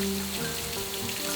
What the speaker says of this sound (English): The rain is coming down quite a bit stronger now.